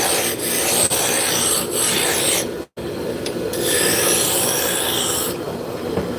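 Roughing gouge cutting a spinning wooden spindle on a lathe, a steady close rasping scrape that runs continuously with one brief break partway through.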